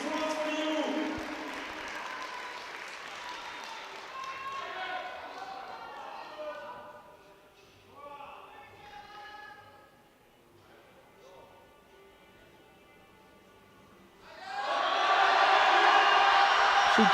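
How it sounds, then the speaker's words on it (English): A crowd at a powerlifting championship cheers and applauds, loud at first, easing to a quieter murmur, then swelling again into a loud burst near the end, with a commentator talking over it. "Everyone's cheering."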